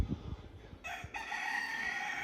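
On a farm in the Canary Islands, a rooster lets out a single drawn-out crow that comes through clearly but softly from a little distance, with no talking.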